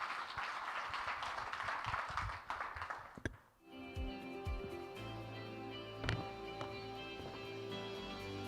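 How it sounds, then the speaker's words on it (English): Audience applause for the panelists at a medical technology conference in Dubai, several seconds of dense clapping that thins out and gives way to a steady backdrop of tonal music. "Round of applause for our panelists, ladies and gentlemen."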